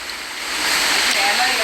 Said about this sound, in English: this is just one of the waterfalls they have at the El Yonke National Rainforest